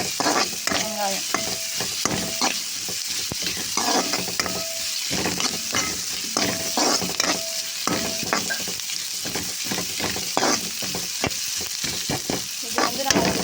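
Onion and tomato fry with a steady sizzle in a pan while a utensil stirs and scrapes rhythmically against the metal, producing repeated clinks and scraping strokes throughout.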